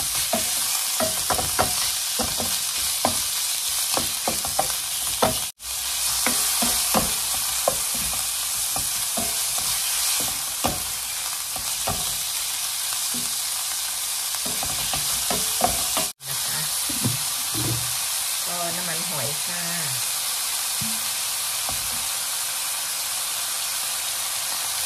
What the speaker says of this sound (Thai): ใส่เนื้อหมูลงไปผัดเลยค่ะก็ผัดให้หมูพอสุกนะคะ